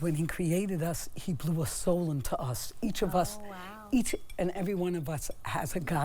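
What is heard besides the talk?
No everyday noise stands out behind the speech.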